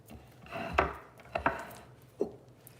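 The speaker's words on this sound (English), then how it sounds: "we just chop up the entire head of delicious, crunchy iceberg lettuce" A knife chops a head of crunchy iceberg lettuce on a board, with a few separate crisp cuts and crunches at uneven intervals, close and fairly quiet, with no voices.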